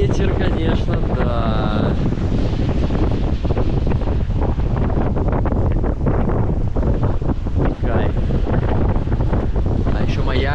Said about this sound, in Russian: Ветер сильный, конечно.